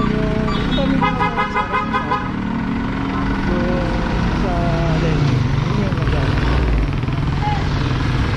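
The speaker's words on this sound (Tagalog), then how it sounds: "Ayun si Kuya, busina ng busina rito" Car horn honked in short repeated bursts at the start during a street clamping operation, followed by idling vehicle noise with a voice talking over it.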